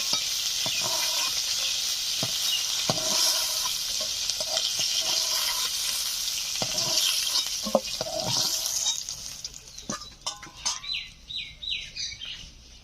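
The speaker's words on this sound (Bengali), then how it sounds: "মিডিয়াম আছে আস্তে আস্তে মাছগুলোকে ভেজে নেব।" Bata fish fry in hot oil with a steady, close sizzle, broken by occasional clinks and scrapes as pieces are moved. The sizzle thins out toward the end.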